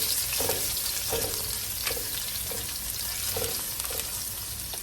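Garlic sautéing in a hot pan of oil for a Filipino home-cooked dish, a continuous sizzle with periodic stirring scrapes roughly every second, close and alone without talk.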